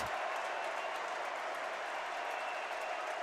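A packed basketball arena crowd at a Minnesota Golden Gophers home game against Indiana keeps up a steady, dense roar of cheering and applause, loud and unbroken from start to finish.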